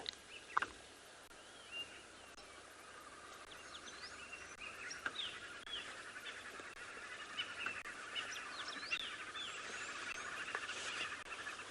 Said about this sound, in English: But this bird we're hearing on the background, they are green woodhoop.